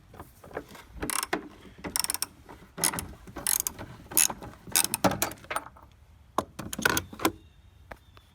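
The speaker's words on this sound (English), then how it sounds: "use a 10mm socket with extension and remove the nut from the bottom of the" A 10mm socket ratchet with extension clicks in quick bursts of ratcheting strokes while loosening the nut under a Trailblazer Envoy battery tray, close and fairly crisp, with brief pauses between runs.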